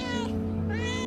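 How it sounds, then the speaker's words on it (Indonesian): A cat gives two short meows, close and clear, with a brief rising cry at the end. "Mereka memiliki suara meong yang bisa membuat kita nggak tegaan."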